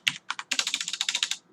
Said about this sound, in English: while I'm typing it out